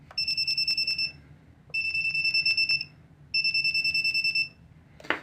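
A BlueDriver automotive multimeter's non-contact voltage detector beeps near a smartphone USB cable in three loud bursts of rapid, shrill pulses separated by short pauses, close up with no talking.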